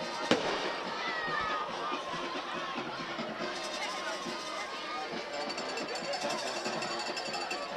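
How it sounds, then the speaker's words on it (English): Fireworks go off after a touchdown at a high school football game, a sharp opening bang followed by scattered crackling pops over steady crowd noise and talk, mid-distance and moderately loud. "Now they can shoot the fireworks."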